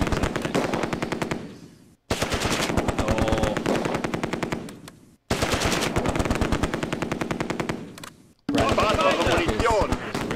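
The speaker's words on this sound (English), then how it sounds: "I'm running out of ammo here on the MG." Machine gun fire in the World War II strategy game Close Combat 2: A Bridge Too Far, loud sustained bursts of rapid shots broken by brief pauses, with a voice speaking over them.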